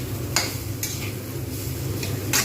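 Fried potatoes with poppy seed (posto) spice mix being stirred in a pan, a few sharp scraping strokes of a spatula spaced out over a faint low sizzle, close and alone.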